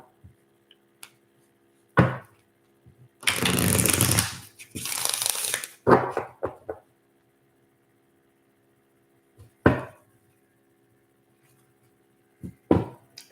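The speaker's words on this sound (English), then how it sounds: "I'm going to finish shuffling." A deck of playing cards is shuffled in a few separate bursts: a longer riffling flurry followed by short sharp snaps and taps, close and fairly quiet, with silence between.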